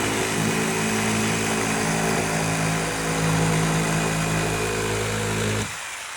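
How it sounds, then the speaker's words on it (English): A jigsaw cuts a vinyl sign into a puzzle piece with a loud, steady motor drone and buzzing blade, running continuously and then cutting off near the end, leaving a quieter hum. "I just used the blade that was already in my jigsaw for this part of the puzzle"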